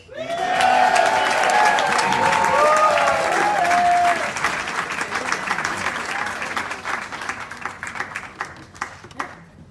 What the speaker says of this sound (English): Keep the applause going for our next performer